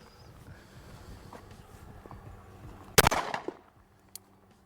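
A single sharp, loud shot from a striker-fired pistol at an outdoor range cracks midway through, followed by a brief echoing decay and a faint later click against quiet background.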